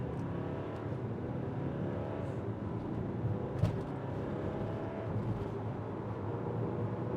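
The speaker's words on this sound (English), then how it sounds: "So launching the Audi Q5 35 TDI, I have no idea what it's gonna do, but let's find out." Audi Q5 35 TDI diesel SUV, 2023 model, launching from a standstill, a steady continuous engine drone heard from inside the car, fairly even in level without distinct gear changes.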